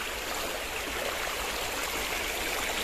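Clear river water flows in a constant, full rushing wash, close by and loud with no talk over it.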